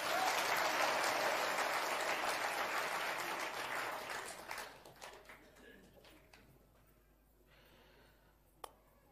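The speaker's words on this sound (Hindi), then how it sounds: "ताली तो बजा दीजिए" Audience applause at a live religious darbar gathering, a dense crowd clapping loudly at first, then thinning out into scattered claps and fading to near quiet with one sharp late clap.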